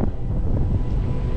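Cold wind blows across a station platform at an amusement park, a loud low rumbling buffet hitting the microphone continuously through the short moment.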